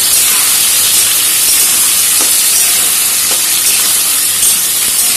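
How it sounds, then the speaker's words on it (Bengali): Aloo paneer frying in a pan with a loud, steady hiss of sizzling oil, constant throughout with a couple of faint clicks. "এটা এইভাবে আমি কিছুক্ষণ ভাজতে থাকবো।"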